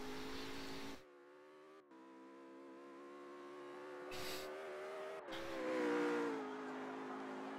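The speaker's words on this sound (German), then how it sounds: "fährt jetzt auch langsam aus der Box raus" GT3 race car in a racing video game at Monza, its engine droning steadily as it rolls slowly out of the pit box, with a brief lift in pitch near the end.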